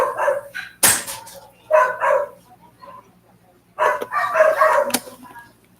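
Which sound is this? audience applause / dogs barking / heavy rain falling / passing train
dogs barking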